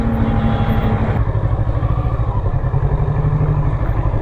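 A Kawasaki Z650 streetfighter motorcycle is ridden off-road across rough wasteland. Its engine drones steadily and loudly throughout, with a constant rumble and no pauses.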